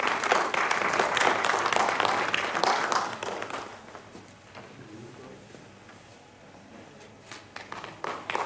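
Applause from a conference audience fills the first few seconds, then fades into scattered claps and murmuring voices before a few more claps return near the end.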